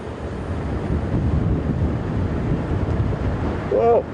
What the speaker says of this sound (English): Whoa, this wind is incredible. It really has just picked up.